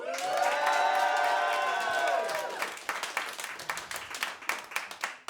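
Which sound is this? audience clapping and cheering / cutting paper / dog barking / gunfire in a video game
audience clapping and cheering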